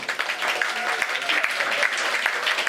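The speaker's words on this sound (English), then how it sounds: "Another round of applause for our Comart ambassadors." An audience at a communication arts program's 15th anniversary celebration claps steadily and warmly throughout, a dense, continuous applause filling the room with some voices mixed in.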